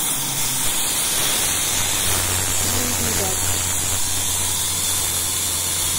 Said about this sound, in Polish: I otwieramy na tą parę.